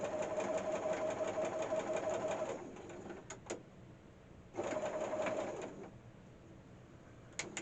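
A sewing machine stitches a drawstring bag in two close, steady whirring runs, pausing between them with a few clicks as the fabric is adjusted.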